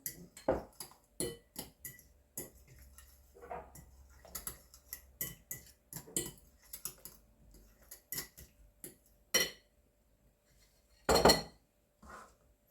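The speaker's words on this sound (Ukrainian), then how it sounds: "Також все перемішую." A utensil clinks and scrapes against a bowl while mixing cauliflower casserole ingredients with mozzarella, in irregular bursts, with sharp taps and a couple of louder knocks.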